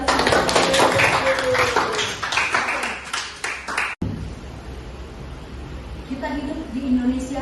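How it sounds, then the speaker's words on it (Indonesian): Students clap in a classroom, a dense burst of applause over some voices lasting about four seconds before it breaks off into quieter room sound with people talking. "Tepuk tangan boleh kasih."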